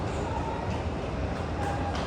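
Constant low rumble of a moving Dunedin Railways train through Taieri Gorge, New Zealand, heard from inside, steady and enveloping, with a faint high whine now and then.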